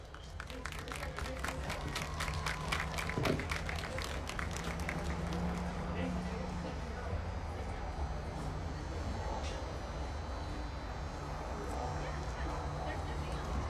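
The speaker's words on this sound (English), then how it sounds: "A round of applause for Miss Cheyenne Hill" A crowd at a WDHS versus Paulsboro high school football game applauds, with dense clapping in the first few seconds fading into a steady, distant roar of crowd noise that lasts throughout.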